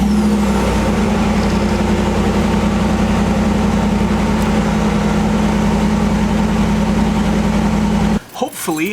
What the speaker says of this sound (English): So let me go start the truck.